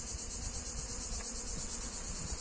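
Bees buzz around a hive in a steady, high-pitched drone that carries on evenly, with a soft low rumble underneath.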